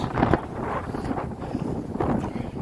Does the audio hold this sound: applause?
no